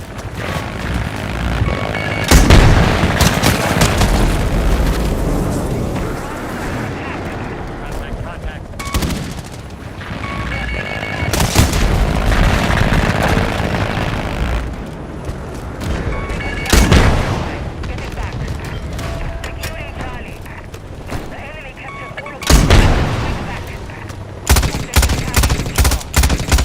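Loud video game combat with rapid bursts of gunfire, machine-gun volleys and booming explosions, recurring every few seconds over continuous battle noise, with voices calling out in between.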